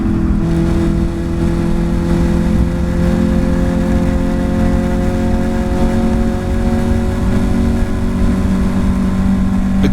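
Caterham Academy race cars at Mallory Park accelerate hard out of Gerrard's, a loud, close, continuous engine drone holding steady pitch with overlapping cars in the slipstream, with no voices.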